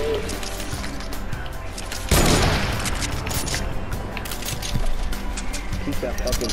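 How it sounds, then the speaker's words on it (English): Rapid bursts of gunfire hit a wall in the Fortnite video game, sounding as loud, dense volleys with a heavy blast around the middle, while players talk over the shooting. "I'm gonna shoot the wall."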